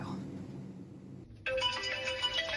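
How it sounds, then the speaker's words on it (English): A mobile phone ringtone suddenly starts and plays a bright, repeating electronic melody at close range, cutting in after a stretch of muffled background noise with some speech. "What is that noise? Where is my phone?"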